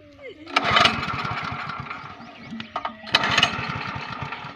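A small petrol engine on a village water pump is pulled to start, sputtering and catching in two rough surges of rapid firing before settling into an uneven idle, close by with a voice heard briefly.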